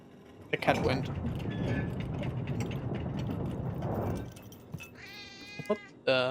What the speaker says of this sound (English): What do you want, cat?